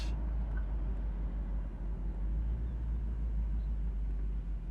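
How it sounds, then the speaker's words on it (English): A 1968 Chevrolet Camaro convertible sits idling at a traffic light, its engine a steady, low, quiet rumble that carries on evenly with no revving. "You can barely hear the car running. It idles very nicely"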